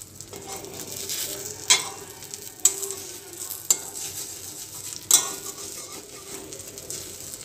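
An egg fries in a pan with a steady sizzle throughout, broken by a few sharp scrapes and clinks of a utensil against the pan.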